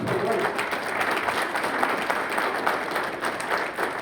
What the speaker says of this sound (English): A round of applause for Wali.